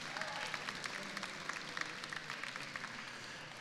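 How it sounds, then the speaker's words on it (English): An audience applauds both teams at the Dota 2 grand final at Insomnia57, a gaming event, with sustained clapping and crowd noise heard from a distance. "can we please have a round of applause for both teams in the grand finals of the Dota 2 here"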